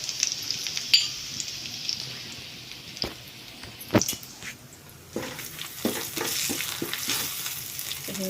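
Whole spices (cinnamon, clove, cardamom, pepper) with turmeric fry in hot oil, a close sizzling hiss broken by several sharp stirring scrapes and knocks, growing busier and louder toward the end.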